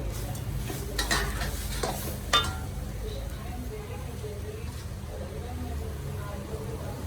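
Chopped shallots and curry leaves fry quietly in a pan until brown with a soft, steady sizzle, punctuated by a few clinks and scrapes of a utensil stirring; a voice speaks in the background.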